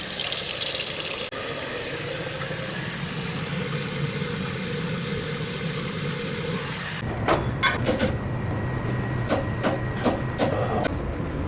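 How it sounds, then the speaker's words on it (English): Hot water pouring from a household tap as a loud steady broadband rush, then cutting off, leaving scattered drips and small clinks in a quiet room. "So I turn in the hot water."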